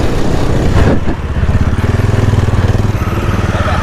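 A Bajaj Pulsar 180F motorcycle fitted with an Akrapovic exhaust gives a loud, close rev that drops into a rapid, throbbing idle with even exhaust pulses.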